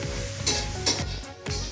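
A mother stir-frying fried rice in a home kitchen pan, with steady close sizzling and scraping stir strokes that swell in bursts every half second or so, loud and continuous with no talk.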